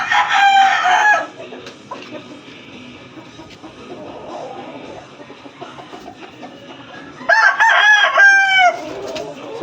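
A rooster crows loudly up close twice, once at the start and again near the end, with quieter clucking and farmyard noise in between.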